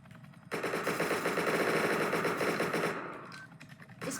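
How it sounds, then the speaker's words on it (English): Enemy gunfire in the video game Entry Point, a sustained loud burst of rapid automatic shots that starts abruptly, rattles steadily for about two and a half seconds, then cuts off to a quieter tail. "And you're shooting me through the floor"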